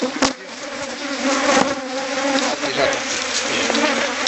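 Bees buzz steadily and close by during honey harvesting from a hive box, a dense droning hum that swells and fades slightly as insects move around.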